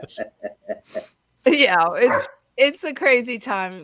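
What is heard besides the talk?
dog barking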